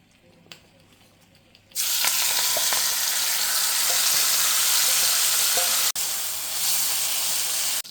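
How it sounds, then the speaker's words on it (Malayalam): Marinated squid pieces hit hot coconut oil in a kadai, a quiet start giving way to a loud, steady, broadband sizzle that holds for several seconds, briefly dips, then resumes strongly. "നമ്മളുടെ മാരിനേറ്റ് ചെയ്ത് വെച്ച കൂന്തലിൻ്റെ കഷ്ണങ്ങളൊന്ന് ചെറിയ രീതിയിൽ ഫ്രൈ ചെയ്യാൻ"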